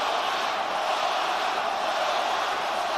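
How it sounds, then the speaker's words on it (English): Boxing crowd of 17,000 at the MGM Grand chanting Loma, heard as a steady, distant roar of massed voices that stays even and unbroken. "you can clearly hear a Loma, Loma, Loma chant"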